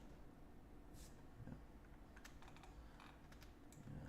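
Computer keyboard keys being pressed while working in Blender, a few light, quiet clicks scattered over a low steady background hum, with no talking.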